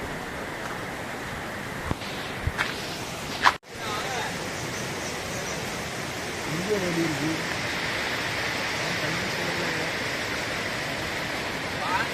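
The Zenith waterfall at Khopoli rushes forcefully in a continuous, close roar, with a sharp knock early on. People talk faintly over the water.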